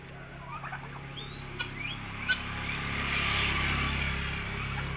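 A turkey gobbles in brief bursts amid outdoor background noise, with a few chirpy bird calls scattered through.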